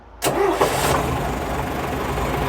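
A 1956 Daimler double decker bus engine cranks briefly and catches, settling into a loud, steady low idle close by.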